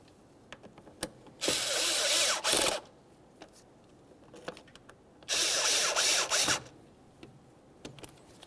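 Ratchet-type tool snugging the mounting screws on a mass air flow sensor in a 2006-2012 Ford Fusion 3.0L V6, two loud close whirring bursts of a second or so each, with scattered clicks and taps around them.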